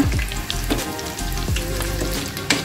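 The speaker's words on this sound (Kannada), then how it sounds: "ಈಗ ಒಂದೊಂದೇ ಹಾಕ್ಕೊಳ್ತಾ ಇದ್ದೀನಿ. ನೋಡಿ ಚೆನ್ನಾಗಿ ಆಗ್ತಾಯಿದೆ ಫ್ರೈ." Boondi for motichoor laddu frying in oil on medium heat, a close, continuous crackling sizzle with a few soft clinks of a slotted ladle against the pan.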